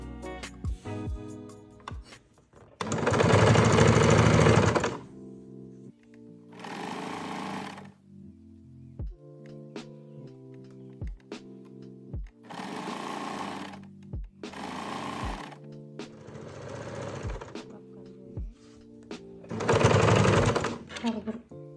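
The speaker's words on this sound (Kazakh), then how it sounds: "Көрпенің ортасынан бастап көрпешені тігіп өтеміз." A sewing machine stitches binding onto a small quilt in several loud, close bursts of rapid whirring, separated by pauses in which a voice talks.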